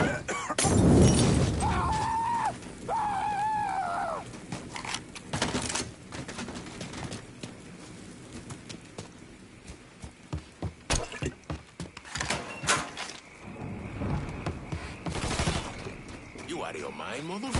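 Shotgun blasts in the video game Mafia 3, several loud booming shots spread across a busy, noisy scene, with people talking in between.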